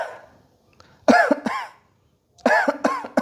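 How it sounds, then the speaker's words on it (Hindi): A voice demonstrates a paroxysmal dry cough in two bursts, each a rapid run of three or four harsh, close coughs separated by a pause of near silence. "एक तरीके का कफ होता है जैसे पैरोक्सिमल कफ कहते हैं"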